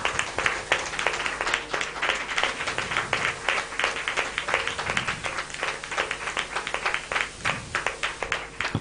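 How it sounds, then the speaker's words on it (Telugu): A church congregation claps loudly together in praise, a dense, sustained wash of many hands filling the hall for several seconds, with no speech over it. "ఒకసారి గట్టిగా చప్పట్లు కొట్టి దేవుని మహిమపరచా"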